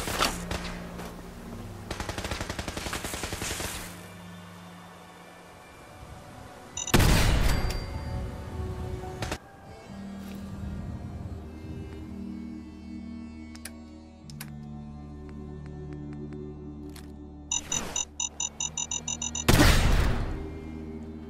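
Mines go off in the video game Fallout 4 as several sharp, loud explosive bursts spaced through the clip, with rapid gunfire-like crackles and electronic ticking and beeping between them; no talking.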